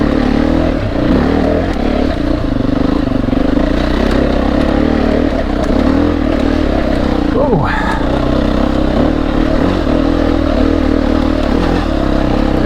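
A Beta 480 RR dirt bike ridden outdoors gives a steady, close engine drone that holds throughout, with a brief shift in pitch near the middle.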